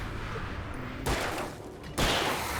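Gunfire in the survival-horror video game Alan Wake, two sharp broadband bursts a second apart over a steady murky game ambience, fairly close and loud.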